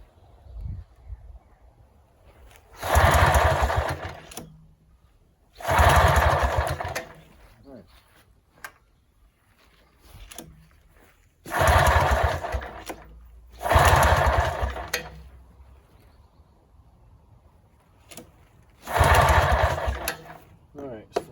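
A small engine is pull-started with a starter pole in several separate loud bursts, each catching briefly and dying away, with quiet gaps and talking between the pulls.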